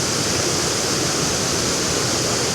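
A limestone waterfall stepped down over eroded rock layers pours steadily in a dense, loud, unbroken rush of broadband water noise, close by with no voices.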